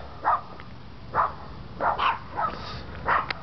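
Chihuahuas bark in short, sharp yips, about half a dozen spaced over a few seconds, moderately close against a faint, steady background hiss.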